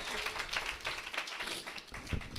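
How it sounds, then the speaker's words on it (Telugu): A church congregation at a festival gathering claps together in praise of God, a steady stream of overlapping hand claps filling the hall, heard at a moderate distance with some voices mixed in. "చప్పట్ల కొట్టి దేవునికి స్తోత్రాజ"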